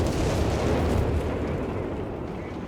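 British artillery fire in the Company of Heroes 3 strategy game, a dense, continuous rumble of overlapping booms and blasts, loud and steady throughout with no clear gaps.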